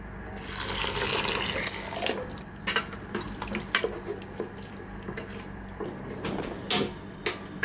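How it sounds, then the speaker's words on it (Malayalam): Boiling water streams into a pot for chicken mandi cooked in an idli steamer, a steady splashing pour with clinks and knocks of metal in a home kitchen. "തിളച്ച വെള്ളമാണ് ഇതിലേക്ക് ഒഴിച്ച് കൊടുക്കുന്നത്."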